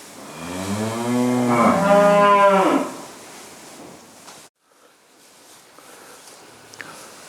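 Charolais cows in a winter farm yard give one long, loud, close moo, followed by a quieter stretch of faint yard sounds.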